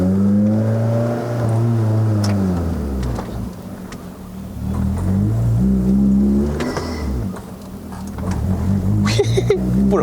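Toyota Vios 1.8L with the 2ZZ-GE VVTL-i engine accelerating on a test drive in Malaysia, the engine note rising and falling steadily through the whole stretch, with someone talking over it from inside the cabin.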